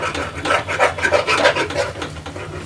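Aloo baingan sabzi being stirred in ghee in a kadhai for a Punjabi-style dish, a steady close scraping and rubbing of spoon against pan with a soft sizzle underneath, continuous and fairly loud with no voices.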